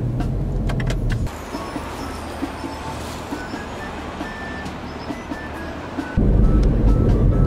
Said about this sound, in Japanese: 下田までねしばらくドライブさせていただきます